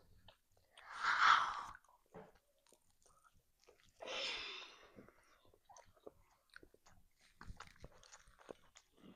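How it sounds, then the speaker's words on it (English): Someone bites into and chews a BBQ beef slider with cucumber and lettuce, close up, with two loud crunchy bites followed by quieter, irregular chewing. "You gonna take a big bite of your burger?"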